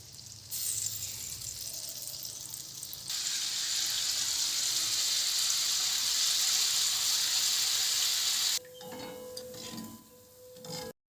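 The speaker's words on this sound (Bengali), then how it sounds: "এবার এগুলো ভেজে নেবো একদম ছোটো ছোটো করে" Tiny drops of gram-flour batter fry in hot oil in a kadai, a loud, steady, hissing sizzle that swells midway, holds for several seconds, then cuts off to quieter scraping.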